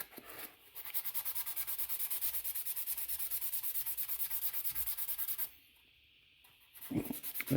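Steady rhythmic scraping of hand sanding with a sanding sponge on a quarter-scale Thor sculpture, quick back-and-forth strokes, close and continuous, pausing briefly before a few more rubs.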